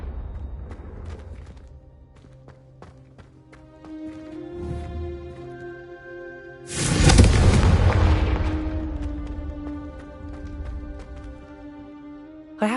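In Hogwarts Legacy, a Confringo spell goes off as a deep fiery explosion that swells midway and slowly fades beneath sustained tonal game music, with sharper magical crackles before it.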